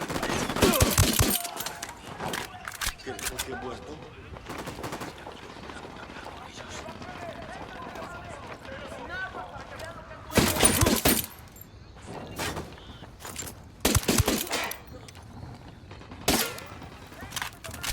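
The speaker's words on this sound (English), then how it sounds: "I'm opening fire on these shitheads." Bursts of video game gunfire in a shootout, several loud clustered volleys separated by pauses, with voices talking between them.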